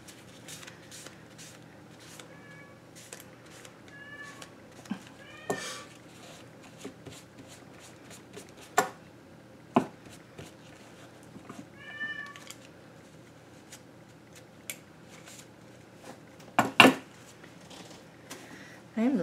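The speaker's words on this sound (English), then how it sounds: "I'm sure you can hear my cat Milo" A cat meows a few times, short and fairly faint, among soft rustling and light tapping sounds.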